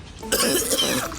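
A single sharp cough bursts out after a brief quiet moment, followed by a rough, raspy tail.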